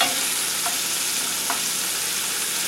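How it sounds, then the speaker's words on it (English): Vegetables frying in a pan for vegan arroz tapado give a steady, close sizzle with a couple of faint stirring scrapes, and no one speaks. "We want to give this a good little fry here."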